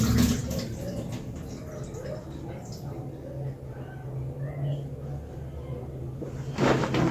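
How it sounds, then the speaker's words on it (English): Potatoes being washed in a basin of water, with sloshing and splashing under a steady low background hum and a louder burst of water noise near the end. "I like to wash my potatoes twice"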